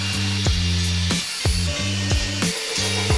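A power drill drives screws into a boat cabin hatch during a half-cabin boat restoration, giving repeated short whirring bursts that rise and fall in pitch, close and loud.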